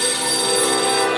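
A telephone rings with a loud, steady electronic ringtone that sounds alone and unbroken for just over a second.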